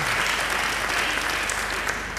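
A church congregation gives a steady, dense round of applause, a continuous wash of many hands clapping at an even level throughout, with no voices over it.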